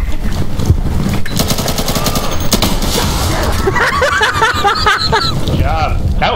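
Rapid video-game gunfire from Insurgency, including shotgun and automatic weapons, rattles in dense continuous bursts while players talk and laugh over it.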